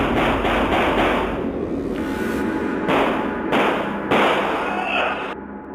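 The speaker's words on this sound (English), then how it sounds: "a series of gunshots ring out" Several sharp, loud bangs in quick succession, irregularly spaced, over a dense background noise.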